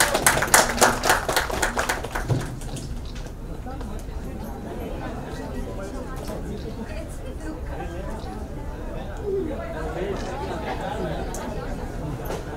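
Applause for Vaani Kapoor at a Ted Baker London watch launch event: a short burst of crowd clapping at the start fades quickly into a steady murmur of people chatting in the room.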